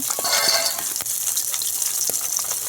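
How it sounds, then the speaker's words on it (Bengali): Lentils (dal) being rinsed with water in a kitchen: steady splashing and gushing water with small sloshes and clinks, close and continuous. "অল্প একটু জল দিয়ে আমি ভালো করে ধুয়ে নিচ্ছি"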